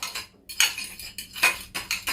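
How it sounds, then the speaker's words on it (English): Spoon stirring yogurt starter in a bowl, with a few separate bursts of scraping and clinking against the dish, close and moderately loud with short pauses between strokes. "we have to put 2 spoons from the yogurt and mix it really well"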